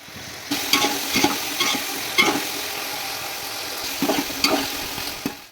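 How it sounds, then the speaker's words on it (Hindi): Vegetables stir-fry for Chinese chicken and vegetable rice, with loud bursts of spatula tossing and scraping in an uneven rhythm over a continuous close sizzle. No one speaks. "हमारे जो वेजिटेबल्स हैं ये अच्छे से फ्राई हो गए हैं"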